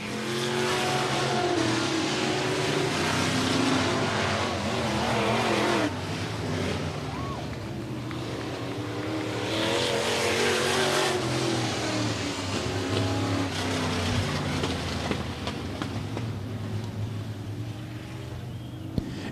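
Stock cars race the final lap at Stuart Raceway, a continuous loud roar of engines and tires, with an announcer faintly audible underneath.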